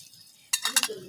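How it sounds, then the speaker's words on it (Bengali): Onion, chili and a little cumin are stirred in a pan, giving a few quick scraping clinks of a utensil against the pan, close and fairly soft, over a brief faint sizzle. "পেঁয়াজ, লঙ্কা, সামান্য জিরে, একটু নাড়াচাড়া করে নেব।"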